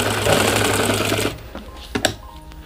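A sewing machine stitches a gent's kurta in a loud, fast, dense burst for just over a second, then stops, leaving a few faint clicks and handling sounds.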